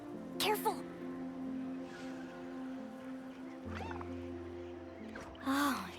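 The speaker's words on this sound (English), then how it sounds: "It's just a young Kaholasaur." A young Kaholasaur creature in Genshin Impact lets out a few short, high chirping cries over a soft game music bed, with a brief quiet call early and a louder one near the end.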